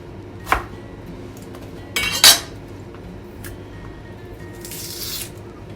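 A knife cuts pechay, tomato, garlic and onion on a board in a home kitchen, a few isolated taps and scraping strokes, one louder clatter near the middle, with a soft hiss at the end.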